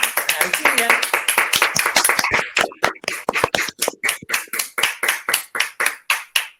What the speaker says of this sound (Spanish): le podemos dar un fuerte aplauso a Alcira